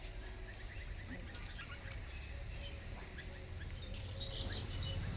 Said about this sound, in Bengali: আজকে এই যে নতুন পাখি আসছে একটা